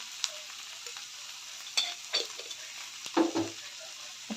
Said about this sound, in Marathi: सर्व मिक्स करून घेऊया व्यवस्थित